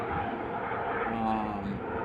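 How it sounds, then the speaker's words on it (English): A helicopter flying overhead outdoors gives a continuous broad engine and rotor rumble. It stays steady and moderately loud through the whole clip, with no speech over it. "There is a chopper here."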